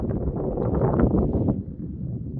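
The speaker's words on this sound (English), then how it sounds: "If it sounds like it's windy, it's not that windy" Wind buffets the microphone in low, rumbling gusts, loud at first and then easing off slightly.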